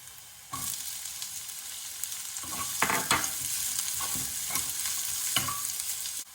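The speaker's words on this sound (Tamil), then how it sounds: "இப்போ வந்து ஆனியன் ஆட் பண்ணிக்கிறேன்." Onions and garlic fry in a pan for crispy baby corn, a steady bright sizzle with a sharp burst as the onions go in and several scraping stirs recurring throughout, with no talking.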